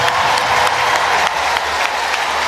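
A stadium crowd on the bends applauds during an athletics meet with a 200m race, a loud, broad wash of clapping and crowd noise that holds steady throughout.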